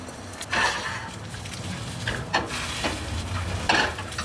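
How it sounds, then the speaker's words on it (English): Eggs fry in a hot stainless steel pan with a steady, close hiss and sizzle, broken by a few scraping stirs of a utensil against the pan. "And you want a nice sizzling sound."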